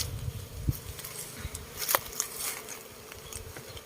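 Cavity-nesting honey bees swarm around a hive in a bucket, with a close, continuous buzzing and individual bees droning past, along with occasional small knocks and taps.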